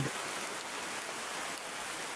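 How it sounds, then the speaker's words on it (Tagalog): Heavy rain falls outdoors on a plot being cleared for planting bananas, a steady, dense hiss with no pauses and no voices over it. "medyo malakas yung ulan"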